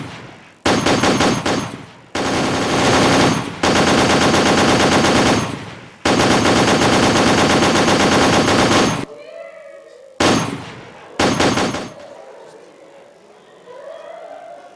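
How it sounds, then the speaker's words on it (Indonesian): Loud bursts of rapid gunfire rattle out in long volleys as a sound effect in a stage drama, stopping abruptly, followed by two shorter bursts and a quieter tail near the end. "mereka menembaki warga setempat dengan menghujani tubuh dengan peluru timah"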